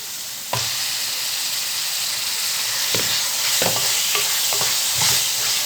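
Mutton pieces sautéing with onions in a pan for a mutton kurma, a steady close sizzle that holds throughout, with a few sharp stirring knocks and clinks breaking through now and then.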